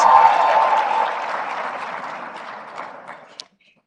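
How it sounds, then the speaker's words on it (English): Audience applause at a forum in Kigali, a dense wash of clapping that starts loud and gradually thins and fades over a few seconds, ending with a last isolated clap. "Let's give him a warm round of applause."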